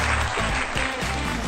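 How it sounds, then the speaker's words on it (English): An audience applauds on a live broadcast, a short second round of dense, continuous clapping mixed with low rumble, fairly loud throughout with no speech. "There's always that little second round of applause that comes in from the audience."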